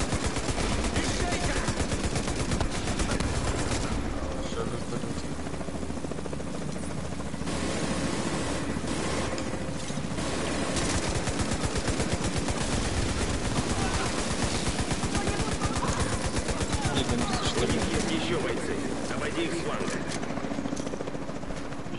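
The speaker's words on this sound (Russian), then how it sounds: "Да, сюда пулемет проходит." Machine-gun fire in Tom Clancy's The Division 2 on PS4 Pro, rapid continuous bursts running almost the whole time amid dense game noise, with talk over it.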